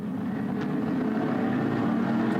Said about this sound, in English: The revs begin to rise, the speed begins to build